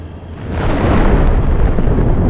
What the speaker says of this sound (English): One tank, carrying a large amount of ammunition, hits a mine.